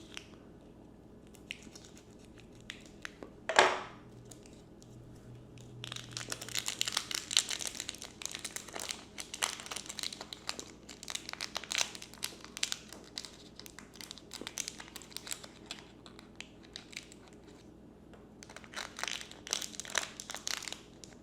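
Plastic packaging for a miniature cafe toy kit crinkles as it is cut open: one sharp snip, then a long stretch of dense, crackly rustling and crumpling, close by, with no talking.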